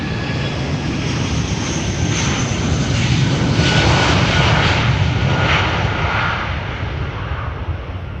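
Jet engines of an airliner at Amsterdam airport, relatively quiet, drone as a steady broadband roar that swells slightly in the middle and holds at a constant level, alone without voices.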